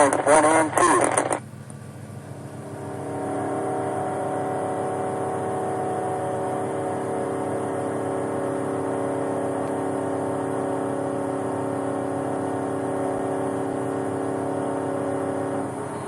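Race car circling a track at a Richard Petty Driving Experience, a steady loud engine drone holding one pitch after a brief burst at the start, with a voice talking over it.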